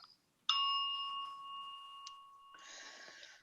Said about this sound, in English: I ring a bell for the Buddha who shared his teachings and invited us to practice.